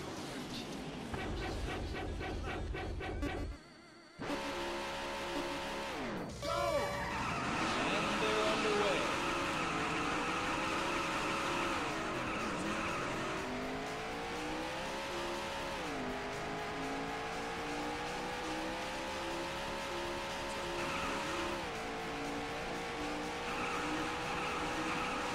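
Daytona USA arcade race cars roar and rev, with engine pitch climbing and dropping through repeated gear shifts and some tire squeal. The sound is loud and continuous after a brief dip near the start, and voices appear occasionally.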